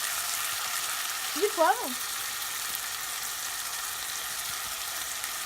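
Tomatoes seasoned with salt fry in a pan with a steady, close broadband sizzle throughout, and a voice speaks briefly partway through.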